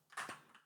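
A single keystroke on a computer keyboard, typing capital Q, gives a short, faint click with a second softer tap after it, near and quiet with no talking.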